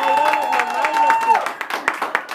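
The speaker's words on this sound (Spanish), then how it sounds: "repítame el aplauso para nuestra hermosa cumpleañera" At a birthday party with a mariachi band, a group claps for the birthday girl, starting under a sustained whistle and cheering, then breaking into sharper, spaced claps.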